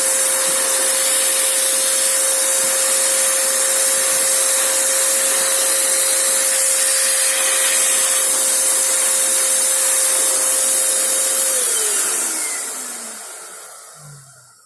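A cheap electric paint spray gun runs with a loud, steady motor whine and airy hiss, holding constant before winding down and fading out at the end.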